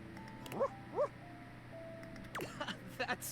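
A small cartoon dog in a dating video game lets out a few short, high yips and whimpers, spaced apart over a faint steady tone, with a couple of quick chirpy barks near the end.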